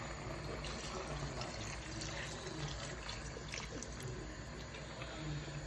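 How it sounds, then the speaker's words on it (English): Water pours into a cooking pot of gizdodo with onions and seasoning, a soft continuous splashing and trickling that runs steadily for several seconds, fairly quiet and close. "So it's time to add in some water."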